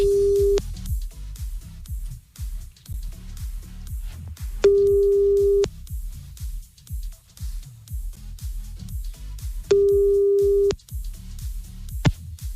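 A ringing tone plays on a telephone line during a French radio phone-in show: three long, steady beeps spaced evenly several seconds apart over a faint, murmuring background.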